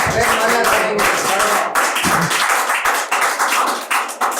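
Audience members clap at a poetry recitation gathering, giving loud, uneven bursts of hand claps that stop and start with short gaps, mixed with voices.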